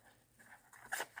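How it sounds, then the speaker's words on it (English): A pet dog pants and gives a few soft whimpers indoors, faint and brief, with a couple of slightly stronger breathy bursts near the end. "That's my dog."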